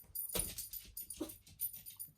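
A dog barks faintly in the background indoors, with a couple of short bursts about a second apart over low room noise.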